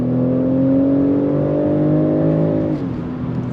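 A 2024 BMW X5 luxury SUV pulling away from a dead stop, its engine a loud, steady droning hum that climbs slightly in pitch, then drops as it shifts.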